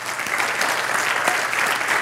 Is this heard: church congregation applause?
yes